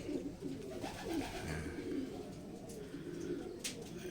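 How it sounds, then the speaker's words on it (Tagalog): Racing pigeons coo at a family loft in Calamba, Laguna, low rolling calls overlapping one another in a steady murmur close by, with faint chirps above. "Dito na sila mga kalapatids."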